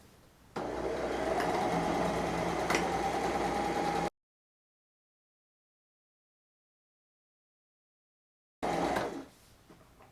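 A sewing machine runs steadily in a continuous mechanical whir for a few seconds, stops, then briefly whirs again before quieting.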